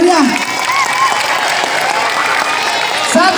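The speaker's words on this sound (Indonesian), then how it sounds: "Tepuk tangan yang meriah." A crowd of students and staff gives lively, dense applause at a vocational school's opening ceremony after balloons are released, continuous clapping with some background voices and faint cheering.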